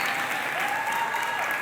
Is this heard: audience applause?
yes